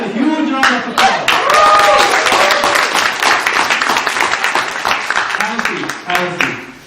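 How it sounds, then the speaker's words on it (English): An audience applauds at a motivational speaking event, a dense wash of clapping filling the room with cheering voices mixed in, tapering slightly toward the end. "Give yourself a huge round of applause."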